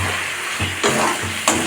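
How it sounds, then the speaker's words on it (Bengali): Chicken skin curry frying in a pan is stirred, giving a steady sizzle broken by a few scraping strokes of a spoon against the pan, loud and close, with no talking. "একটু নেড়ে চেড়ে দেখি"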